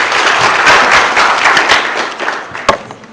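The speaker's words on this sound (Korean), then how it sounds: "여러분, 큰 박수로 환영해 주시기 바랍니다." Audience at a Korean economics seminar applauds in welcome of a presenter, a dense burst of clapping from a large room that thins out toward the end with a single sharp thump.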